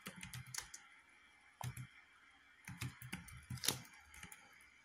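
Computer keyboard typing in short bursts of quick, crisp key clicks separated by pauses, close and fairly quiet.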